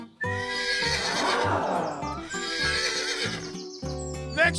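A horse whinnies loudly and close by, a long shaky neigh followed by another, with faint hoof clip-clops underneath.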